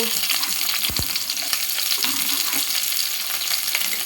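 Sliced onions fry in hot oil with cumin and poppy seeds for semiya upma, a dense close sizzle with scattered crackles and a brief scrape of stirring.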